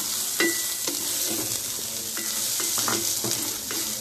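Ginger garlic paste and chana dal sauté in a pan for chicken shami kabab: a loud, steady sizzle with repeated scraping stir strokes close by.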